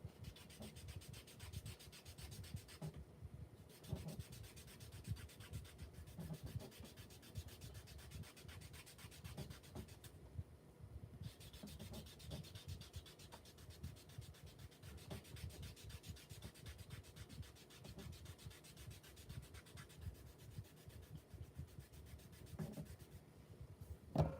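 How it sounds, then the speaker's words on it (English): Blending stump rubbed over colored pencil on paper during an adult coloring session, a soft continuous scratchy rubbing with steady strokes, close and quiet, no voices. "Now, I want that smoother looking. So I'm going to take my blending stump"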